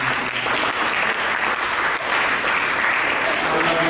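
Church congregation applauding during a sermon, a thick, even wash of many hands clapping that runs continuously at full volume with no pauses.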